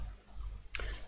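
A single sharp left-button click of a computer mouse while retouching a photo in GIMP, close and brief against a quiet background.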